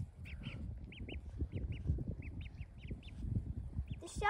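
Several ducklings peep and quack in short, high, repeated calls nearby, scattered over a low rustling and digging background, with a brief louder burst at the end.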